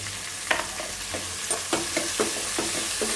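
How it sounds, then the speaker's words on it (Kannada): Chopped mint sizzles steadily in hot oil in a pan, with a spoon stirring in a regular rhythm of soft scrapes and clicks over the continuous frying hiss. "ಪುದೀನ ಸ್ವಲ್ಪ ಫ್ರೈ ಆಗಬೇಕು, ಎಣ್ಣೆಲಿದೆಲ್ಲ ಫ್ರೈ ಆಗಿ"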